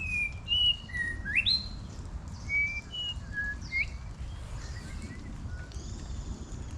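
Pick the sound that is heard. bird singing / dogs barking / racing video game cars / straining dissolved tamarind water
bird singing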